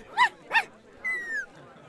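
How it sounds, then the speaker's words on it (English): Puppies in Minecraft Story Mode give two short, close yips followed by a longer high whimper, with brief pauses between them. "Got some fine puppies here."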